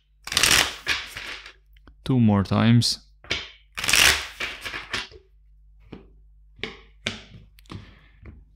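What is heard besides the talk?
tarot card deck being shuffled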